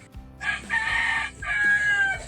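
A rooster crows loudly nearby, two long drawn-out calls in quick succession with a brief pause between them.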